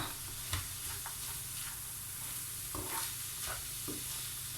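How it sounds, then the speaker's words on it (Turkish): A spoon stirs içli köfte filling seasoned with cumin in a sizzling pan, giving soft repeated scrapes and clicks over a constant low frying hiss. "Şimdi hemen şöyle bir karıştıracağım bunu"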